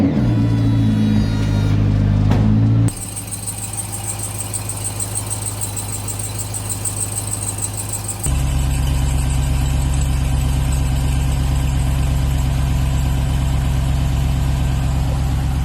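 A 2021 Ram TRX idles steadily and close by, a constant low engine drone with a faint high ticking running through it, the tone shifting slightly partway through as the idle settles.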